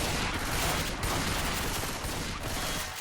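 Shotgun fire in a multiplayer video game comes as a dense run of loud, overlapping gunshots and bursts, with no talking.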